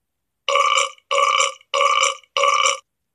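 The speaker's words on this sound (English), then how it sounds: "I will burp at the table." Four loud, evenly spaced burps, each lasting under half a second, separated by short silences, with no other sound around them.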